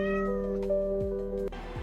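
A cat meows in a drawn-out, wavering cry over a steady low hum, followed by a couple of short downward-sliding chirps near the end; close and fairly quiet, with no voices.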